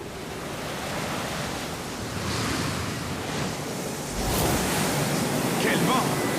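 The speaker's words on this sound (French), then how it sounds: "Quel vent!" Wind howls across the desolate plains of L'Escarre in the Final Fantasy XIV Stormblood game, a broad continuous rushing roar that swells louder toward the end.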